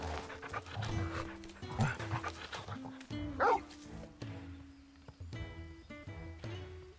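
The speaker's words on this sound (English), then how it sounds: "This is Torgal, a wolf pup raised in the duchy." A wolf pup in a video game pants and gives short yips and barks, close and moderately loud, over sustained musical tones.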